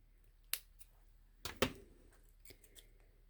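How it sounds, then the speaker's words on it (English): Scissors snip cardstock for a handmade card, with a few sharp, quiet, close cuts, two of them in quick succession, in an otherwise hushed room. "let's snip that up just a tiny bit higher"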